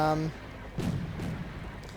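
Enemy mortar rounds land in Wargame: Airland Battle, with one muffled thudding impact after a brief tonal game sound, followed by a rumbling tail and a fainter second burst, moderately loud.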